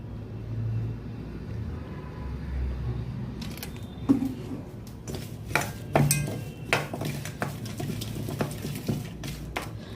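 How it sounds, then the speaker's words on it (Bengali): Shrimp being mixed in a bowl with tandoori masala, chili powder and mustard oil, with a string of irregular clinks, taps and wet scrapes of a utensil against the bowl, close and moderately loud. "এই চিংড়িগুলো এতে মাখাবো"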